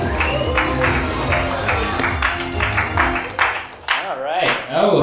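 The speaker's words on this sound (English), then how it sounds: "I appreciate the attempt at the singular clap from everyone at the beginning that just petered off after like 20 seconds" Audience applause and scattered clapping at a Hollywood comedy open mic as the host takes the stage, a steady rattle of hands with some cheering, fading toward the end as a voice starts speaking over it.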